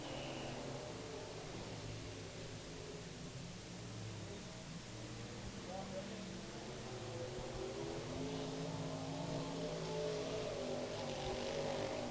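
Hobby stock race cars powering around Mountain Motor Speedway, a steady distant engine drone with rising and falling tones from several cars circling the track, continuous throughout.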